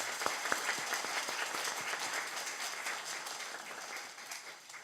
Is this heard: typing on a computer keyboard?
no